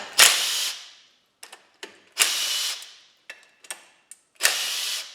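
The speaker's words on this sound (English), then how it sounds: "So I got the old impact, pulling those off." An impact wrench pulling spark plugs from an engine, with three long whirring bursts that each fade away, separated by short metallic clicks and ratcheting taps, close and alone.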